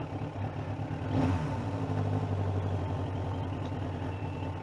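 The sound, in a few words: 1993 Suzuki Katana 750 motorcycle engine warming up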